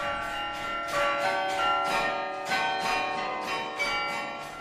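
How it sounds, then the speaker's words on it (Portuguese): A carillon of 47 church bells rings out together in a rich, overlapping peal, struck in quick succession with long shimmering tones. "E não é um sino só, Dorothy. São mais de 50 sinos. É um carrilhão."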